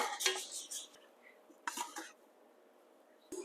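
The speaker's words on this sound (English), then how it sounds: "Scrape all this out." Stretchy bread dough scraped out of a bowl with a dough scraper, giving a few short close scraping and knocking bursts separated by near silence, with a faint final scrape at the end.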